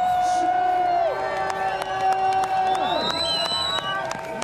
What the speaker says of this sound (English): Pretty pumped up. The Swiss crowd are behind him.